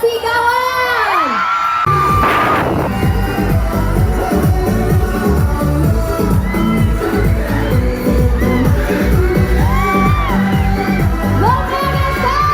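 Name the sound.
crowd cheering and shouting for the megastar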